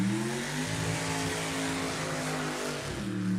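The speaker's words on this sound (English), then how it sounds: "Oh, and a throttle hang open on Steve Schoenfeld's car" A drag racing hot rod's engine keeps revving with its throttle stuck open at an NHRA Hot Rod Heritage race, a loud sustained roar that holds steady, then dips briefly before resuming.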